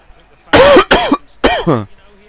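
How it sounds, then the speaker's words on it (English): Three short, harsh coughs in close succession, loud and near, with brief gaps between them and no other sound around. "sorry guys for the cough"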